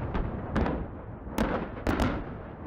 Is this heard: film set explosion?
yes